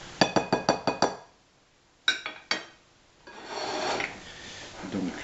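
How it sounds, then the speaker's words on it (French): A spoon clinks sharply against a bowl in a quick run of about six taps, then three more, followed by a softer scraping rub as almond flavouring is stirred into dough ingredients, close and without talk. "Donc je mélange le tout."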